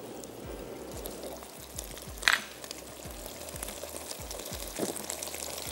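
Half a portion of rice is stirred into a pan, giving a soft continuous sizzle with repeated low scraping strokes of a spoon and one sharper clatter partway through, fairly quiet and with no talking.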